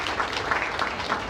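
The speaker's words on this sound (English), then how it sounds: "I just want to give Jared a round of applause again for sharing with us" Applause from an interview audience, a steady wash of many hands clapping at moderate, somewhat distant level with no speech over it.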